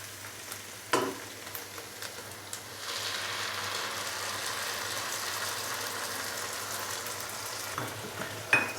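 Tomato and green chili paste hits a hot pan with a sharp splash, then a steady, broad sizzle of frying holds for several seconds with a few louder spatters near the end; no talking.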